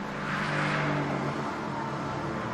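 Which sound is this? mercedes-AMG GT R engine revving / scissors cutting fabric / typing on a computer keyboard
mercedes-AMG GT R engine revving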